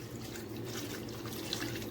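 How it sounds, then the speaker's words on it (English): Water poured from a Ninja cup into a cooking pot while stewing pork makes a soft, steady splashing trickle, close but fairly quiet and continuous for a couple of seconds, with no talking. "So I have my Ninja cup, and I'm just gonna add water."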